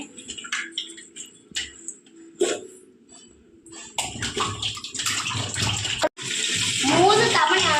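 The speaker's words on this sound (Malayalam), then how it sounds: "വെള്ളത്തിൽ ഇട്ട് അടിപൊളിയായിട്ട് കഴുകി എടുക്കുന്നുണ്ടേ" Food being washed by hand in a pot of water, with splashing and sloshing that grows louder and busier in the second half, and a voice talking over parts of it.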